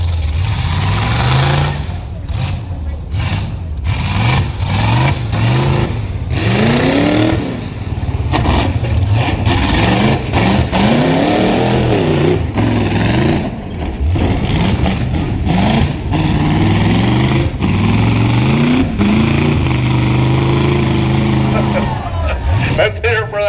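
A Chevy truck at a Tuff Trucks event revs hard through a whoops section, engine surging and dropping repeatedly with clattering bumps, loud and continuous with an announcer and crowd voices over it.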